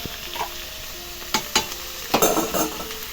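Moong dal and pumpkin frying in a pan, a soft steady sizzle broken by a few scraping strokes of a spoon stirring, close and alone without talk.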